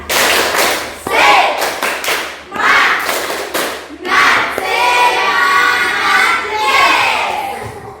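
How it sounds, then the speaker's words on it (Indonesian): A group in a classroom claps out a rhythmic spirit cheer, with loud bursts of hand claps in quick patterned runs and lively voices mixed in. "Sekali lagi tepuk semangat."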